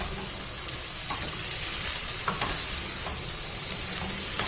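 Chopped onion and paprika sautéing in a pan for a Hungarian lecso, a steady close sizzle and hiss that holds evenly throughout with faint stirring scrapes, no talking.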